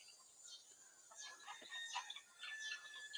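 Chickens cluck softly at a distance, with scattered short calls over a faint, quiet outdoor background and no talking.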